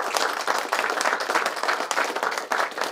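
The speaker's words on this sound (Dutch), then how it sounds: "Ja, een applaus." An audience at a gathering on the energy grid project on Ameland, a Dutch island, breaks into steady, dense applause, loud and continuous with no talk over it.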